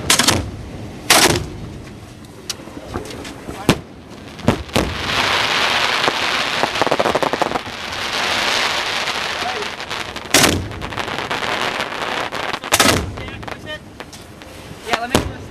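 Fireworks going off at a Marine City display: a series of sharp, loud bangs spaced irregularly, with crackling bursts and crowd chatter between them at close range.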